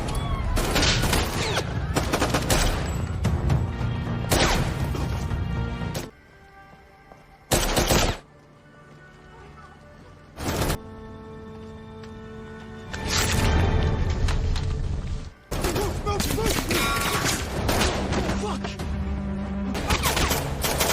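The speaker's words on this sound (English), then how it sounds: "When one of the enemies spots Gunnar, he immediately opens fire, sparking another shootout." Movie shootout gunfire erupts in dense, loud bursts of rapid shots, broken by short quiet gaps and isolated single blasts before heavy firing resumes.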